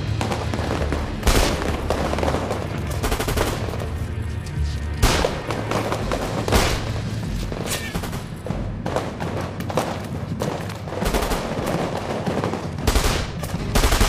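Machine gun fire in a French war film, loud rapid bursts and scattered gunshots crackling in repeated volleys, with shouted voices under the shooting.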